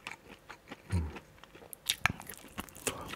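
Crunchy food being bitten and chewed close to the microphone, with a series of sharp crunches and wet chewing sounds in an irregular rhythm, no talking.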